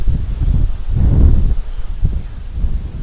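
Wind buffets the microphone in low, rumbling gusts, swelling and easing over a few seconds with a faint rustle, no voices.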